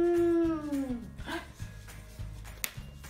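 A person's voice imitates a cow's long moo, a loud sustained falling tone at the start, followed by quieter background sounds during an animal-guessing game.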